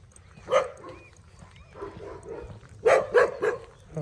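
A few dogs barking outdoors on a rainy walk, with scattered barks near the start and a louder cluster of sharp barks toward the end, over a steady background hiss of rain.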